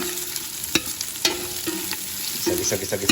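Ingredients for pinapaitan, a Filipino bitter offal stew, sautéing in a pan, with a steady close sizzle broken by sharp spatula scrapes and stirring clinks across a few seconds.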